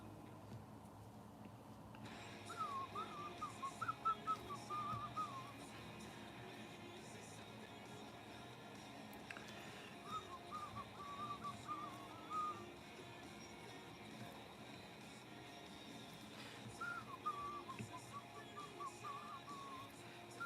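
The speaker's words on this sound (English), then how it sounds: "I am trying my best to keep the whistling to a minimum." Faint human whistling during a drawing livestream, in three short melodic snatches spaced apart, quiet against a steady background hiss.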